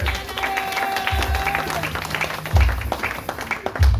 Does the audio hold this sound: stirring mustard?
no